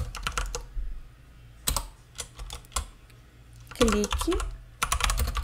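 Keys clatter in uneven bursts as someone types a short email message on a computer keyboard, the clicks fairly close with brief pauses between runs and a voice speaking briefly over them.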